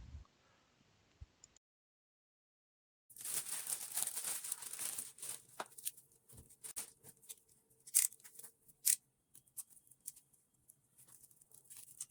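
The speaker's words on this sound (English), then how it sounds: "Let me unwrap the covers." Protective covers come off a pair of Edifier R1700BT wooden bookshelf speakers. Close crinkling and rustling plays in bursts with a few sharper crackles, quiet, after a short silence, and no one speaks.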